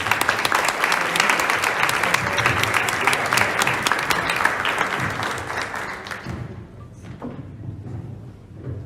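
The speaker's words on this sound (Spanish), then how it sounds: "Le damos un aplauso, ¿les parece?" Audience at a talk on the sacrament of penance applauding, dense sustained clapping that stays loud for several seconds and then fades out, with a few faint voices near the end.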